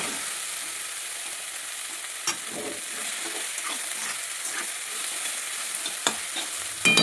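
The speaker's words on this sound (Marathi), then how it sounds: "आता ह्याच्यामध्ये मी टाकणार आहे टोमॅटो. आता ते चांगलं आपल्याला मिक्स करून घ्यायचं आहे" Chopped tomatoes stirred into hot oil in a pan for a breakfast dish of leftover bajra bhakri, giving a steady close sizzle with scattered spoon clicks and scrapes and no voice.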